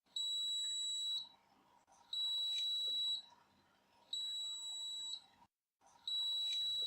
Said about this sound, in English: Shake until last beep.